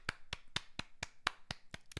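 A single person claps hands nine times in a steady, quick, evenly spaced rhythm, each clap sharp and close, with nothing else heard.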